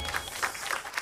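Audience applause in a television studio, a short burst of soft, steady clapping.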